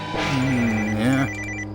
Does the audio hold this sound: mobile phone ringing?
yes